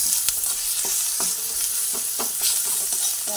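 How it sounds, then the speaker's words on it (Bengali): Chopped onion fries in a pan with a pinch of cumin powder while a spatula stirs it, giving a steady close sizzle broken by scraping strokes every half second or so, with no talking. "সব দিয়ে এরপরে পেঁয়াজটাকে ভেজে নিচ্ছি।"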